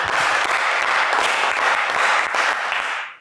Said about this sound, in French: Et on applaudit Fatoumata.